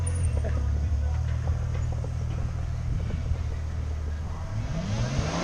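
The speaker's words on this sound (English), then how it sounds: "Rev it, rev it." A Ferrari F12 on a London street holds a deep, loud engine drone that swells toward the end as the revs rise, with faint voices in the background.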